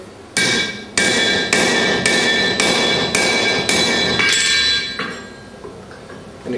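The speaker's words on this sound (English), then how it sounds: "we place the shoe on the anvil again and tap in to the required width of the hoof" A steel horseshoe rings on an anvil under a run of about eight sharp, evenly spaced hammer taps, each leaving a bright metallic ring, close and loud before trailing off.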